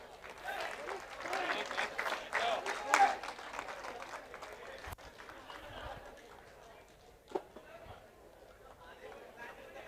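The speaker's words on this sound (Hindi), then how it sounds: "दोनों भी टीम के लिए दर्शकों से एक बार जोरदार तालियां।" Crowd applause for both teams at a cricket semi-final, clapping rising into a dense burst in the first few seconds and then thinning out into scattered claps, with some chatter in the background.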